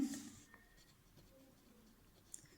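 Marker or chalk writes on a board during a geometry lesson, heard as faint scratchy strokes with a brief louder tap near the end, close but quiet, with no one speaking.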